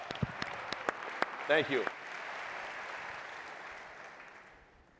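Audience applause for a team at a startup competition finals event, a brief burst of claps dying into a sustained wash of clapping that fades gradually; someone says a short thanks near the start.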